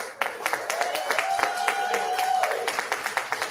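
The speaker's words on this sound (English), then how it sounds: "please twice the applause for first partner Partner Siebel Newsom." Scattered clapping from an audience welcoming Governor Gavin Newsom to a Los Angeles Unified event, a series of sharp claps lasting a few seconds with a faint steady tone underneath.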